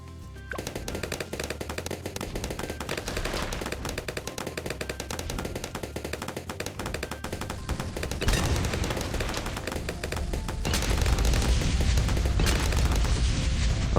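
Rapid semi-automatic gunfire crackles through a Bloons TD 6 game in dense repeated bursts, growing heavier and louder toward the end with booming layers joining in.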